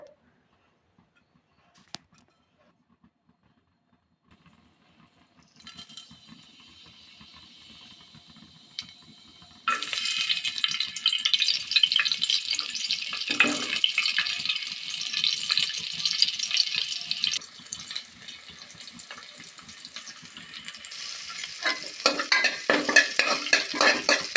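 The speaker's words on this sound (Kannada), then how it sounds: "ಈರುಳ್ಳಿ ಬೆಳ್ಳುಳ್ಳಿ ಕರಿಬೇವಿನ ಸೊಪ್ಪು ಎಲ್ಲವನ್ನು ಹಾಕಿ ಸ್ವಲ್ಪ ಫ್ರೈ ಮಾಡಿ" After a quiet start, a loud sizzle erupts as onion, garlic and curry leaves hit hot oil in a cooker, then continues crackling steadily with occasional stirring scrapes, no talking.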